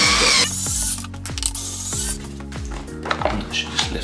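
Deck screws come out of a KQI3 electric scooter with a driver fitted with an extender bit, giving close, loud ratcheting clicks and mechanical whirring in repeated short bursts.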